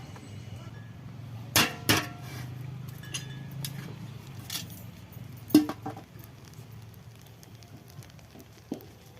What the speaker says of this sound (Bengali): কড়াটা ঢাকনা নেই বলে আমি ডেকচিটা ঢাকনা করেছি।